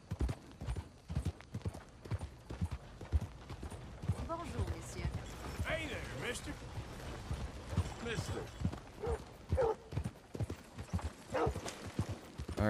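Horse hooves clip-clop at a steady gallop in the Western game Red Dead Redemption, rhythmic and close, with someone talking over the running hooves and an occasional whinny.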